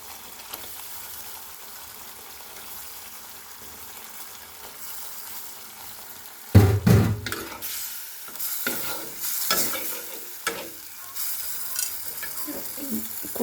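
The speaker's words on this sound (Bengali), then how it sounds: "এবার আমি মাছটা দিয়ে দিই।" Prawns dropped into cooked spice paste, a quiet hiss giving way to a sudden loud sizzle and rough scraping stirs that keep going, close up with no talk.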